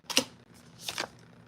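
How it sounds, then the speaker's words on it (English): Tarot cards being shuffled during a card reading, two short papery riffling bursts close by and quiet, with a brief softer shuffle between them. "No, we're going to shuffle some more."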